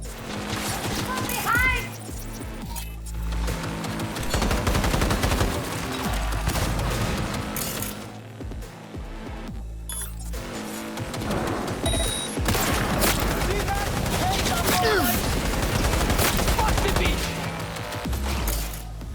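A turret's sustained gunfire in Cyberpunk 2077: Phantom Liberty, loud and dense, with rapid shots and booms running almost continuously amid a busy game mix, with a voice speaking over it at times.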